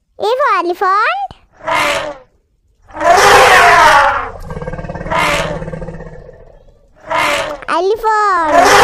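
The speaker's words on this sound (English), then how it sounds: "E for elephant." An elephant gives loud, rough trumpeting roars, one long blast followed by a shorter one, framed by brief higher-pitched childlike vocal sounds at the start and end.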